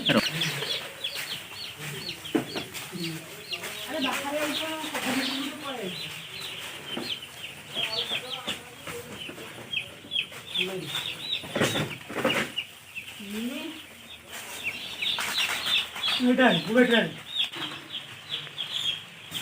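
Many chicken chicks cheeping in a warm brooding house under heat lamps, dense overlapping high peeps with a rising and falling chorus close by, and a voice speaking at times beneath them.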